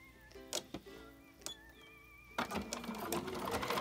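Bernina 770 sewing and embroidery machine stitching a zigzag, starting with a few sparse clicks and ticks, then breaking into a dense, rapid mechanical stitching rattle that grows louder toward the end.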